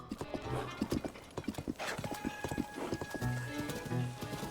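Rhythmic hoofbeats of horses galloping in the video game The Legend of Zelda: Tears of the Kingdom, quick and steady, with a whinny and some faint talk underneath.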